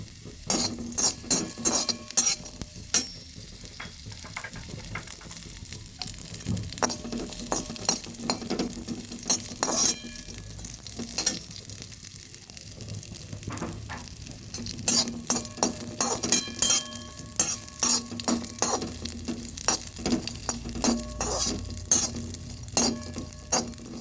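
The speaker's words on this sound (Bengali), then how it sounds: "এখানে দিয়ে দিলাম কাজু আর আলমন্ড সঙ্গে দিয়ে দিচ্ছি কিসমিস হালকা ভেজে নেবো" Cashews, almonds and raisins lightly frying in a pan, a steady soft sizzle with frequent scraping and stirring clinks from a utensil, close and continuous without any talk.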